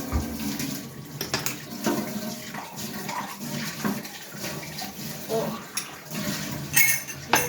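Tap water runs steadily while peel is washed under it, with splashing and a few clinks of dishes close by.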